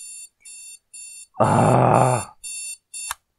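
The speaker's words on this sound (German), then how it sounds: "Ja, ist gut, Wecker, sei ruhig." A video game alarm clock in Jalopy rings in a steady series of loud, regular electronic bursts, broken once by a long, loud, rough noise and a brief exclamation.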